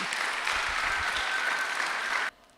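A church congregation claps together in dense, steady applause that fills the room, then cuts off abruptly near the end.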